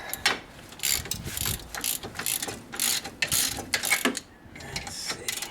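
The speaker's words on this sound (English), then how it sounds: "And now I'm using the bolts to pull it out." Bolts being tightened with a ratchet to pull a wheel bearing out of a second-generation Toyota Prius: rapid, loud clicking ratchet strokes close up, repeated in several bursts with brief pauses.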